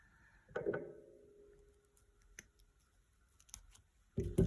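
Scissors cut thin jewelry wire with a couple of sharp snips, close and quiet, among small clicks and handling noises from beading work.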